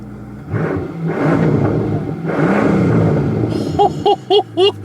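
A powerful twin-turbo V12 engine in a Mercedes S65 AMG coupe revs up in long surges, then fires off several short, sharp blips of the throttle near the end.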